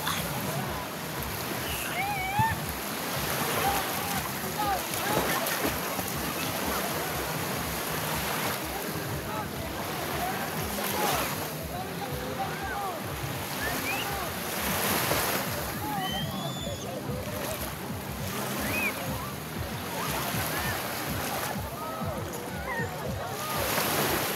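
Sea waves wash and break at a beach at Puerto Azul, a continuous rolling surf with some wind buffeting on the microphone, while people talk and call out intermittently over it.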